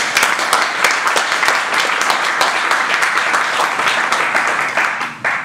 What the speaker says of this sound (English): So, will you put your hands together for Professor Graydon Tunstall?